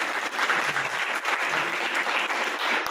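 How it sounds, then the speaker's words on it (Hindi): Loud, dense applause from a college audience at a function in Niwari, a continuous close wash of clapping throughout. "ताली"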